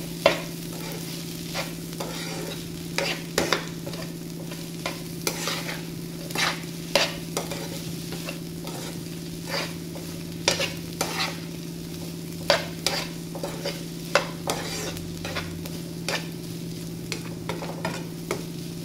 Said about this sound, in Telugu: ఒకసారి మొత్తం కలుపుకోండి కలిసేటట్టు